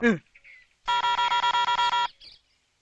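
A telephone is dialled in a Kannada film scene, heard as a quick run of about ten evenly spaced electronic keypad tones, loud and close, after a brief voice and with a short chirp at the end.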